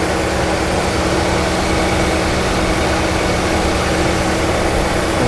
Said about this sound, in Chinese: 我们来看看它这部车的怠速